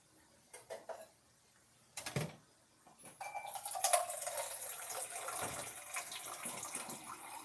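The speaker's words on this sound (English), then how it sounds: "And then now I think I'm gonna add some more water." Water is poured into a cooking pot in a home kitchen, a few short splashes and clinks first, then a sustained, fairly close gushing pour that runs steadily to the end without talk.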